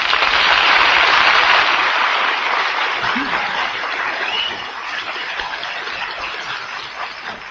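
A studio audience bursts into loud, sustained applause for a song on the Martin and Lewis radio show, the clapping steady and full before easing slightly toward the end.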